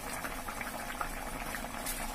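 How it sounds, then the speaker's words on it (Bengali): Rui fish curry in mustard gravy bubbling in a pan, a steady close simmering hiss with soft popping bubbles throughout, no voices. "ফুটে উঠেছে ঝোলটা।"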